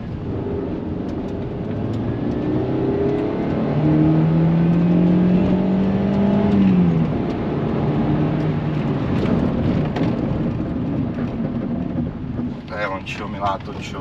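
A Chevrolet car being driven to bed in its brakes rumbles steadily with road and wind noise, its engine note rising and falling, and a voice briefly heard near the end.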